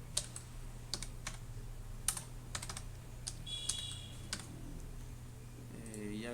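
Typing on a computer keyboard while entering new values in MATLAB, a run of crisp, irregular key clicks close up over a steady low hum, with a faint rising tone near the end.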